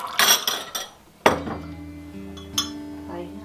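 A spoon stirs hot and cooled filtered water in a metal pot during home canning, giving a few sharp close clinks against the pot with lingering metallic ringing between them.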